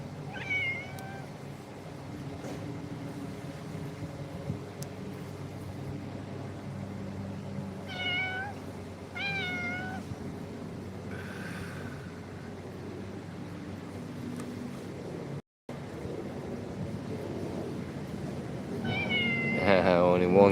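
Cats meowing indoors among a household of many pets, several separate meows scattered through a long stretch over a low steady background hum, growing louder near the end.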